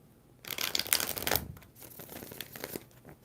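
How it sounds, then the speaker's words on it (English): Tarot cards are shuffled in a brisk, crisp riffle burst of papery flicks, followed by softer, scattered card handling, close and with no speech. "We're going to do 4 shuffles for Naya."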